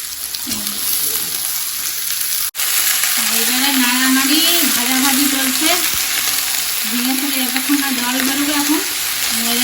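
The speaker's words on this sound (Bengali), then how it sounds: "পেঁয়াজটা হালকা একটু নেড়ে নিয়ে ঝিঙেগুলো দিয়ে দিতে হবে" Sliced onion and ridge gourd fry in a pan while being stirred, giving a loud, continuous close-up sizzle with a faint wavering hum running underneath and a brief dropout partway through.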